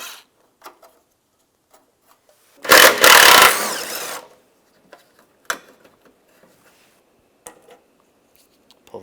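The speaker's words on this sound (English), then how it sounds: "Use a 10mm socket." A 10mm socket on a power tool or ratchet backs out bumper bracket bolts on a 2014-2019 Toyota Corolla, one loud buzzing burst of about two seconds followed by sparse clicks and clinks of parts.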